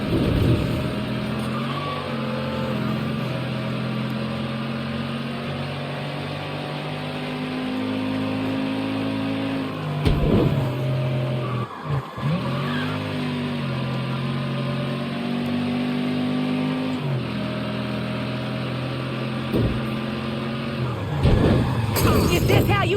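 A car driven in the video game Mafia III, its engine humming and revving steadily throughout with shifting pitch, while people talk over it.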